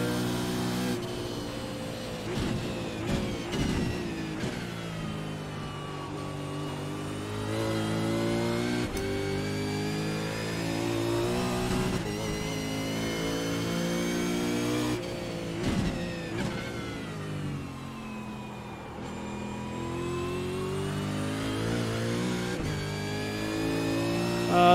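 A race car engine in a Bathurst 1000 racing video game revs and shifts repeatedly, climbing and dropping in pitch in a continuous, moderately loud drone.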